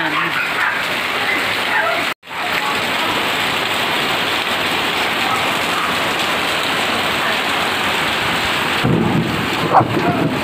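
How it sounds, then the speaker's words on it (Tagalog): Heavy rain falls steadily on surfaces, with rolling thunder rumbling through it and one brief dropout near the start, fairly loud and close. "Ngayon naman umuulan."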